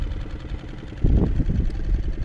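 A Storm F6 outboard motor pushes a boat across Otmuchów lake at about half throttle, a steady low engine drone that grows louder and rougher about halfway through and holds there.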